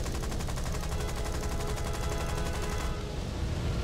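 Machine gun fire from a Blenheim bomber's .303 gun in War Thunder, a loud, steady, rapid rattle of shots running nearly unbroken, heard alone without talking.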